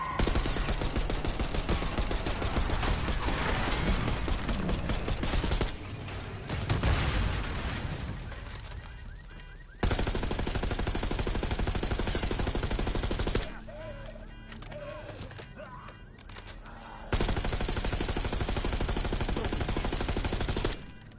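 Video game gunfight with heavy, sustained automatic fire in long loud bursts broken by brief quieter gaps, close and dense, with some voices faintly in the mix.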